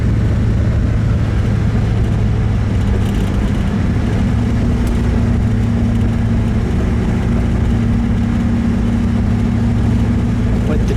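A 1957 Dodge Coronet D500 engine runs at a steady, even idle throughout, close up and loud, with a low continuous hum and no talk over it.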